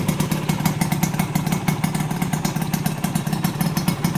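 A Honda LS125D motorcycle engine idles steadily with an even, rapid mechanical clatter and a low throbbing pulse, loud and close with no voices over it.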